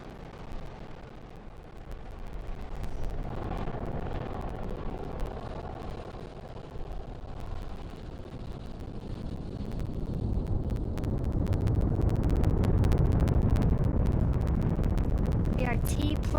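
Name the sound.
SpaceX Falcon 9 rocket's nine Merlin engines roaring during liftoff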